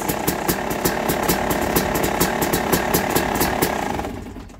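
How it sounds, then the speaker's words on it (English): A Yamaha YZ250 two-stroke dirt bike engine fitted with a Lectron Billetron 38 carburetor idles in cold weather, its rapid, uneven popping beat close and loud before fading out at the end. "It's first time in my life when I see a Yamaha YZ250 idles."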